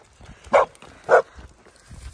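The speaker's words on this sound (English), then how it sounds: "What are you barking at?" A Dalmatian gives two sharp, fairly close barks about half a second apart outdoors on a walk, with quiet rustling around them.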